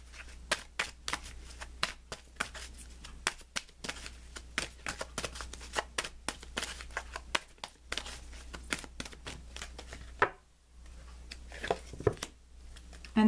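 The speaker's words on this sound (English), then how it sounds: "This deck is a little stiff. It's not the easiest to shuffle." A stiff tarot deck being shuffled by hand: dense, rapid riffling and flicking of cards in quick bursts, close and crisp, with a brief pause near the end before the shuffling resumes.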